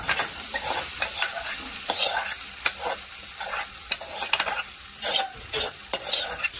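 Boiled chickpeas stirred into browned onions frying in a pan, with a steady close sizzle under repeated scraping and clinking of a spoon against the pan.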